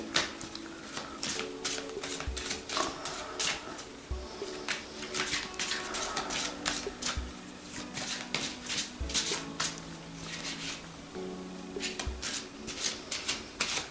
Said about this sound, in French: Nous allons donc maintenant brasser l'archange Michael.